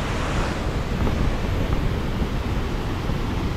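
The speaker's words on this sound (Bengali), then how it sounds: "দেখুন এই জায়গা থেকেই জলটা পুরো নিচে পড়ছে, এই দিক দিয়ে নিচে পড়ে যাচ্ছে জলটা।" Water pouring over the top edge of Hundru Falls near Ranchi in foggy weather, a dense continuous roar with heavy low rumble, loud and close, steady throughout with no voices.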